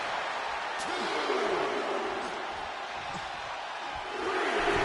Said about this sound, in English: This capacity crowd is sending him love, and he's sending it right back.